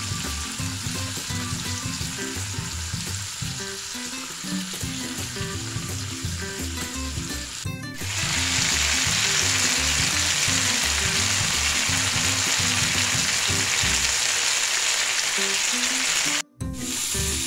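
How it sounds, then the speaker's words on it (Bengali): Continuous crackling sizzle of pomfret fish frying in oil, loud and close, growing brighter midway, with a low hum underneath and a brief cut near the end. "এই মাছটা ভাজা হচ্ছে ভালো করে"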